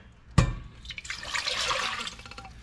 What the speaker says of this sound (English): We're gonna put in 2 cups of water.